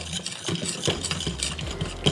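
Vegan bao dough ingredients, flour, sunflower oil, warm water and oat milk, stirred together in a bowl, giving repeated close scraping and clinking strokes in an uneven rhythm with no talking.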